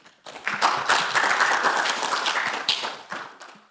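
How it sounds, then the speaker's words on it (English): An audience at an international research conference paper presentation breaks into a dense burst of clapping that lasts about three seconds and then tapers off, fairly close, with no speech over it. "Let's clap for Victor."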